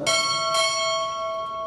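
At a Navy chief pinning ceremony, a ship's bell is struck twice in quick succession, about half a second apart, each loud metallic clang blooming into a long, steady ring that slowly dies away, with no talking.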